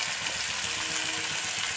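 Chopped onion fries in a pan with a steady, close, continuous sizzle and crackle, with no talking.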